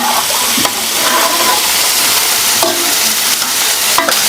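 Steady frying sizzle with intermittent scraping and stirring clicks as masala is lightly sautéed in a frying pan, continuous and fairly loud, no voices.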